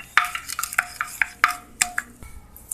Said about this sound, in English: Now let us mix well.